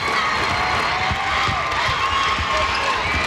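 A crowd cheers steadily in a gymnasium during a women's All-American basketball game, with a ball bouncing on the court and an announcer talking over the noise.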